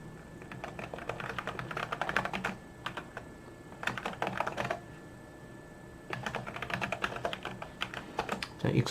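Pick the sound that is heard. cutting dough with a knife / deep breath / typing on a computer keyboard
typing on a computer keyboard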